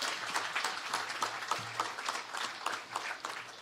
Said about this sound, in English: give the committee members a lusty round of applause for their hard work